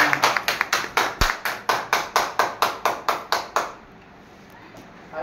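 A class of students claps together in a steady rhythm of about fifteen sharp, crisp beats, close and loud, ending abruptly and leaving quiet room tone.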